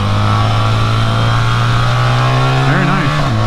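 A 2024 BMW R 1300 GS motorcycle engine holds a steady low throb in first gear, then the throttle blips on and off near the end with a quick rising and falling rev, close and loud.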